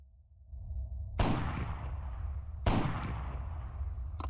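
Two sharp rifle shots from a long-range M320 LRR rifle in the Arma 3 video game, each a loud crack followed by a rolling, fading echo, spaced about a second and a half apart.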